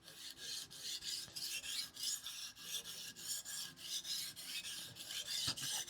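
A hard steel knife drawn repeatedly across a sharpening stone, giving a steady run of close, rhythmic rasping strokes, roughly two per second, with no voices.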